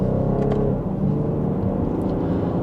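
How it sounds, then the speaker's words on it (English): 2026 BMW X5 xDrive40i accelerating gently in sport mode from second gear, a steady, fairly subdued engine hum heard from inside the cabin without much rise in loudness. "just a minor acceleration, not all that loud, even in sport mode"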